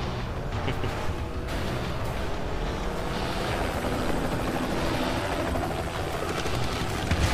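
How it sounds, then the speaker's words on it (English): Helicopter in the video game Renegade Ops, a steady, dense rotor and engine drone mixed with game noise, holding a constant loudness throughout with no talking. "Deadly helicopter."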